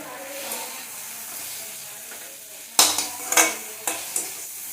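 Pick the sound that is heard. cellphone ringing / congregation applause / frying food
frying food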